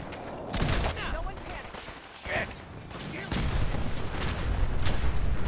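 Gunfire and a grenade explosion in Fallout 4, a dense crackle of shots with a dull blast and rumbling noise building toward the end, mixed under a speaking voice.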